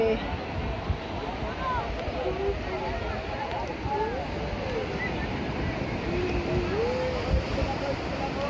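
Steady roar of surf and breaking waves on the beach at Puri, India, with wind buffeting the microphone, while people talk and call out over it.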